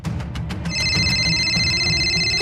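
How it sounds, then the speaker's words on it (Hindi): A phone rings in a Hindi TV drama scene. Once the ringing starts it holds as a loud, steady electronic tone, sitting over a busy background of scuffles and noise. "अरे उधर किसी का फोन बज रहा है"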